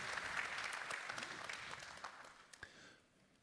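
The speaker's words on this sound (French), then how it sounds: "Merci de l'applaudir." A hall audience applauds the minister at the opening ceremony of the 7th États généraux de l'assurance pour tous: a dense, steady wash of clapping that thins into scattered claps and fades out over about three seconds.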